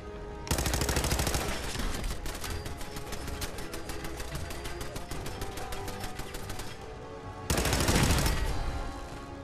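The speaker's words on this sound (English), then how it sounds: "That's a Tommy gun." A Tommy gun fires in the video game Fallout 4 in long, loud, rapid automatic bursts: one sustained stream of shots, a brief pause, then another heavy burst, with no talking.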